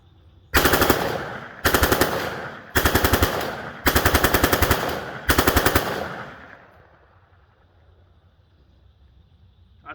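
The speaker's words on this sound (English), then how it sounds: "This is the infantry automatic rifle." Infantry automatic rifle firing five loud, close bursts of rapid automatic fire in quick succession outdoors, followed by a fading echo and wind noise.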